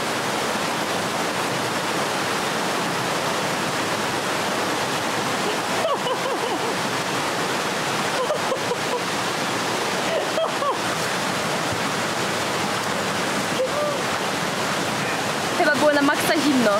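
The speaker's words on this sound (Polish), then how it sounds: "Wodospady na Koh Samui są naprawdę przepiękne." Waterfalls in a tropical forest on Koh Samui produce a steady, loud, rushing roar of falling water that fills the whole stretch, with faint voices now and then beneath it.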